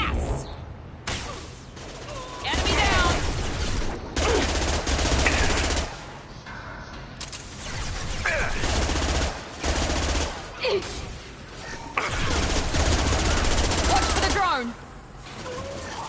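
Sustained gunfire in Mass Effect 2 crackles in long rapid bursts with brief gaps, loud and close, under scattered voices.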